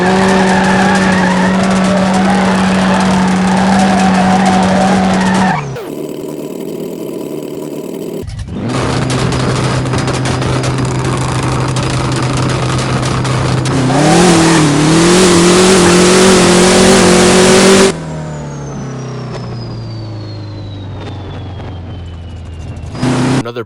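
In No Limit Drag Racing 2.0, a drag car launches with brief wheelspin and tire squeal, then roars through rising gear changes, loud and close, before the engine note drops into a falling whine as it slows; no one speaks.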